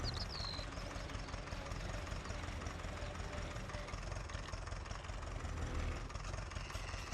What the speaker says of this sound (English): And I'm going to park this tractor right here.